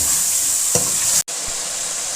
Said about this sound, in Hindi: और अब अदरक लहसुन का पेस्ट शामिल कर रहे हैं और फिर इसको 2-3 मिनट के लिए फ्राई कर रहे हैं चिकन को